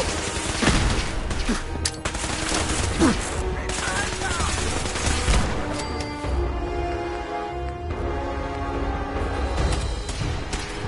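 Sustained gunfire in the Fallout 4 video game: dense, overlapping bursts of automatic and single shots with booming impacts, loud and continuous throughout a firefight.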